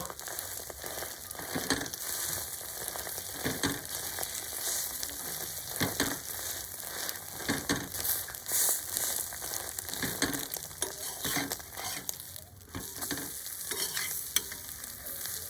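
Roti laid into an egg omelette sizzles steadily in a frying pan, with a continuous crackling fry and occasional stirring or scraping noises close by, no voices.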